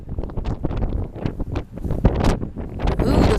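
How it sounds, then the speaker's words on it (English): Strong outdoor wind buffets the microphone in loud, uneven gusts, low roaring rumbles swelling and fading for a few seconds with no other sound standing out. "Ooh, there's a lot of wind"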